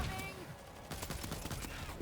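Rapid gunfire in the zombie shooter World War Z, a dense fusillade of shots over about two seconds amid loud game noise, with a voice talking over it.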